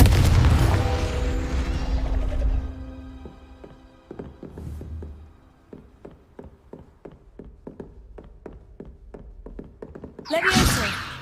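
A Confringo fire-blast spell from Hogwarts Legacy erupts in a loud rumbling boom, then a long run of rapid, evenly spaced thuds and taps crackles through the middle, ending in a second sharp, bright burst.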